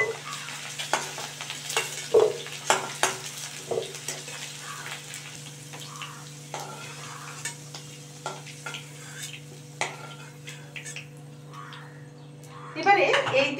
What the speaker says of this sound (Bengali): এবারে এই তেলের মধ্যে আমি চিংড়ি মাছগুলোকে ফ্রাই করে নিচ্ছি